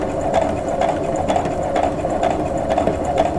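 A sewing machine stitches a pinwheel quilt block of half-square triangles, giving a close, steady motor whir with quick, regular needle pulses and a light rattle throughout.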